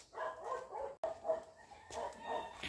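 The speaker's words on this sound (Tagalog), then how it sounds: "Ang iingay ng aso." Several dogs barking outside near a terrace in a rural setting, with repeated overlapping barks at close to middle distance, one sharp loud bark standing out among them and no talking.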